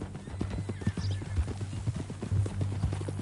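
Horse hooves clip-clop in a steady walking rhythm in Red Dead Redemption 2, close and clear, with a few heavier thuds and faint background murmur.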